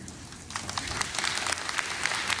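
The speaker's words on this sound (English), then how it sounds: "that's a big cheer moment" Keynote audience at the Dreamforce 2024 admin session bursting into applause and cheers, a steady wash of many hands clapping that swells over a couple of seconds, with a voice faintly underneath.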